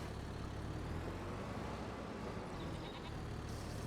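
Goats bleating in the Farming Simulator 25 farm game, a faint bleat heard over a steady low vehicle or engine drone.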